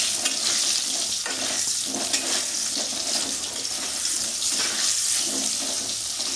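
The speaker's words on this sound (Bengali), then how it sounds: "আলুটা লাল লাল করে ভেজে নেব।" Potatoes frying in hot oil with turmeric in a Bengali kitchen, a steady close sizzle with stirring and scraping sounds throughout, no talking.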